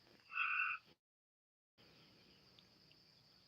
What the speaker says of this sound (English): Them frogs and cicadas have really been center stage here lately.